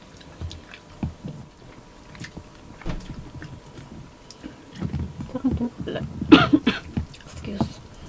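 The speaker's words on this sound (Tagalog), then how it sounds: "Di pa totally nawala yung ubo." Coughing and throat clearing during a lechon kawali and chopsuey mukbang, a few short rough bursts mixed with soft chewing sounds and quiet talk, close to the microphone.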